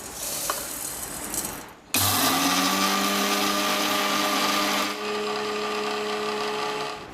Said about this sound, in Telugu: ఆవాలు మిక్సీ పట్టుకుంటున్నాము